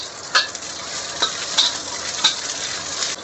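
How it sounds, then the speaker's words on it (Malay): Anchovies frying in very hot oil in a wok, a steady close sizzle with occasional stirring clicks and light scrapes. "Kita goreng sehingga ikan bilis kita garing ya"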